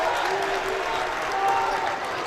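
A packed gym crowd at a varsity high school boys' basketball game, Darien against New Canaan, roars with cheering and clapping. The noise stays steady and loud, with voices and whistles faintly rising through it.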